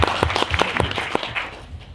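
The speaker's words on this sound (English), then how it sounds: "Give him a round of applause." Brief applause from an education panel audience, scattered individual claps at first that thin out and fade within two seconds.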